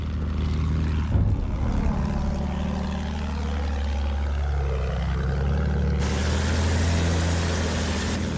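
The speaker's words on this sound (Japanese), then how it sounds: "爆撃機を確認した" A propeller-driven bomber flies overhead, its engines a steady low droning rumble that holds throughout with a slowly shifting pitch, with no voices present.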